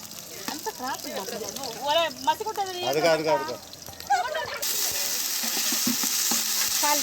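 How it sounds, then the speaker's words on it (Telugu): Ginger garlic paste fries with curry leaves in a home kitchen, a steady sizzle and stirring running beneath women chatting, the frying growing louder and more constant once the talk fades. "అల్లం వెల్లుల్లి పేస్ట్ 2 స్పూన్స్. బాగా పచ్చివాసన పోయేంత వరకు వేయించుకోవాలి"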